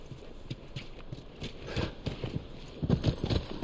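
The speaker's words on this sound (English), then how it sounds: "Right, back on the horse and right after Ellie." Horse hooves gallop in The Last of Us Part II video game, a quiet, rapid clip-clop rhythm that grows slightly louder toward the end over faint background ambience.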